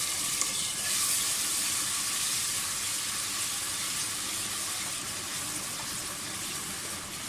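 Garlic ginger paste sizzling in hot oil with whole spices and cinnamon sticks, a steady bright hiss of frying that holds evenly throughout with no talk.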